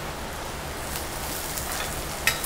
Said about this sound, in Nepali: मसरुम भुट्दिनुहोस्।